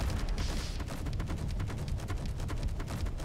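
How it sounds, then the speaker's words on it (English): Auto cannons fire from the left side of a large ship in the game Space Engineers, a rapid string of sharp bursts over low rumbling booms, steady and continuous without speech. "let's use these auto cannons on this side of the ship, the left side. And of course, they're shooting magnificently."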